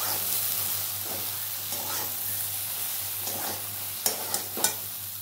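Spices for a taro stolon and shrimp curry being stirred in a pan, a steady soft scraping and sizzle with a few sharp utensil knocks near the end, close and alone.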